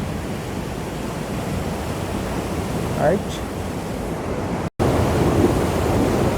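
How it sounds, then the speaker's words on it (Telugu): A loud, constant roar of a rushing waterfall at Devil's Bridge runs throughout, broken by a momentary dropout, with a brief word spoken over it. "చూడండి అసలు ఉధృతంగా ఉందో వాటర్ ఫాల్"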